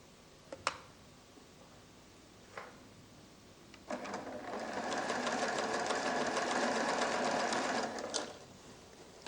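A 1987 PFAFF creative 1471 sewing machine stitches in place, a steady close mechanical whir running for several seconds after a few sharp clicks, with no talking.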